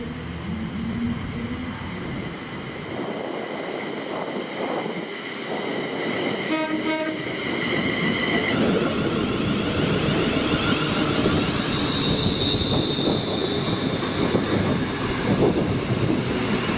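A ScotRail Class 380 electric train passes through Paisley on a service to Glasgow Central, a loud, close rumble of wheels and motors with a brief horn-like tone partway through, continuing steadily to the end.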